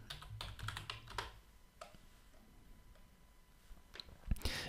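Quick bursts of typing on a computer keyboard, close and fairly quiet, with clusters of key clicks separated by brief pauses and a sharper clatter at the end.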